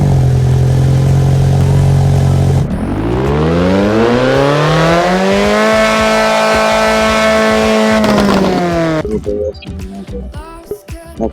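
A powerful game car in Roblox Driving Empire revs up, its engine tone rising through a long acceleration and holding at a high whine before cutting off, loud and close, with little talk over it.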